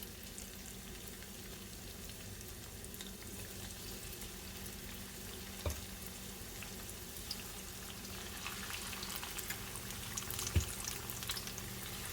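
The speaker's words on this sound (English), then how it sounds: "we'll start frying the chicken wings" Chicken wings sizzle and crackle steadily in about two cups of hot oil, a quiet continuous frying hiss with a couple of soft clunks.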